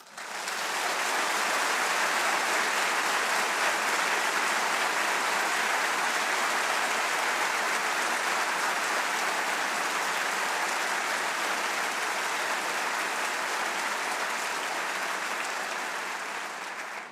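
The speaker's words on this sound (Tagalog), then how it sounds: "Ang lakas ng palakpak niyo" Loud, sustained applause from an audience at a religious talk fills the whole stretch, a dense, even wash of clapping that swells in and holds steady before tapering slightly at the end.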